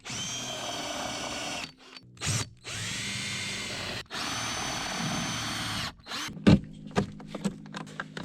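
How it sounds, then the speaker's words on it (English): A power drill whines in several long bursts with short pauses, drilling out aluminum rivets on an aluminum jon boat, followed by a few sharp clinks and rattles. "So I'm going to go ahead and just drill out all these rivets."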